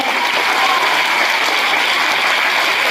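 Children clapping their hands together in a temple hall, a dense, steady patter of many small claps filling the space loudly and evenly, with no pauses or voices standing out.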